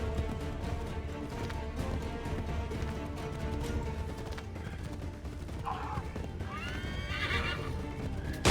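Horse whinnying with clip-clopping hooves in Assassin's Creed III, set over a dense, steady bed of game music and ambience, the neigh rising clearly near the end.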